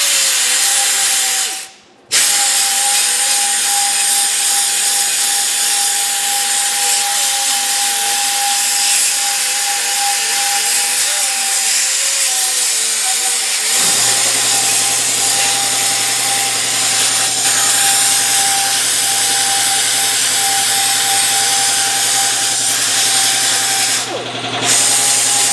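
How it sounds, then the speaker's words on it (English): A sanding disc cleans the face of a wheel bearing hub on a 2001 Ford Taurus, giving a loud, steady whining grind that runs almost continuously. It cuts out briefly near the start and shifts to a deeper, heavier-loaded tone midway. "I'm going to just use a sanding disc to clean the face up here."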